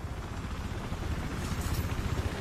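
A helicopter in a war video game gives a dense, steady rotor-and-engine roar with a low rumbling throb, loud and close throughout.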